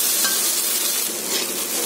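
Okra (bhindi) frying steadily in a pan into a crisp bhujia, a continuous close sizzle with soft stirring scrapes, no talking.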